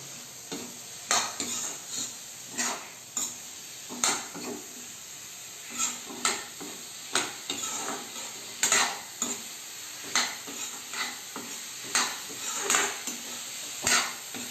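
Cumin and garlic spice paste stir-fried over a low flame, with a spoon scraping and knocking the pan in a steady rhythm of repeated strokes over a soft continuous sizzle.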